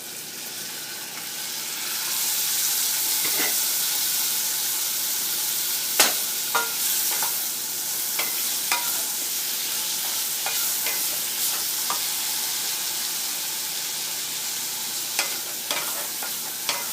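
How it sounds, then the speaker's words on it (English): Bitter gourd frying in a pan sizzles with a soft, even hiss, with occasional sharp scrapes and clicks from stirring scattered through the long stretch. "Just stir it."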